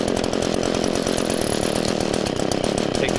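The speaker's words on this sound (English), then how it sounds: "So starting this blower up is actually really easy." An Echo PB-2620 handheld gas leaf blower runs at high revs right after starting, a loud, close, continuous two-stroke engine roar with a fast pulsing rattle and no talk.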